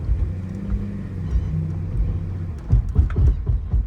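A Porsche Cayenne with a PSM/ABS failure accelerates, its engine a deep steady rumble that swells into heavier, pulsing surges toward the end, close and loud with no talk.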